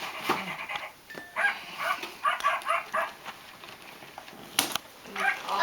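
A Go Go My Walkin' Pup toy dog gives repeated short, yappy electronic barks and whimpers in a home, with brief pauses between bursts.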